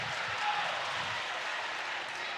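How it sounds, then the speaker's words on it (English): A high school basketball crowd in a gym cheers and applauds around a free throw, a dense, continuous roar of clapping and voices, loud and steady throughout. "Crowd's getting into it."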